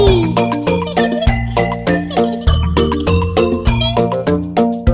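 A sung children's song in which a kitten's meow is voiced, with repeated meow-like vocal notes over a steady musical backing with bright chime tones throughout.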